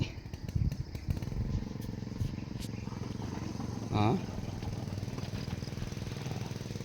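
Two water pump engines chug with a steady, rapid knocking rumble close by, continuous throughout, with a brief vocal exclamation over the noise.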